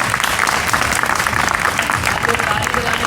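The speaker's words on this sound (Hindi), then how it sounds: "जोरदार तालियों से सर का स्वागत किया जाए।" An audience at a Republic Day school program applauds to welcome a guest, a dense, steady wash of many hands clapping at once, with voices mixed in.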